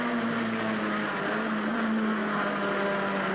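A racing car's engine drones close and steady at high revs, with a sustained low hum and no voices.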